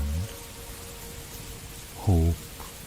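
Steady rain hisses continuously at an even level. A brief low, droning tone sounds at the start and again around the two-second mark, and no one speaks.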